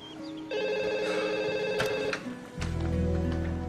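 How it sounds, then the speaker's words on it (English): A telephone bell rings indoors in a rescue station office, one clear electronic trill after a faint earlier tone, followed by a busier burst of sound. "Alex, phone for you."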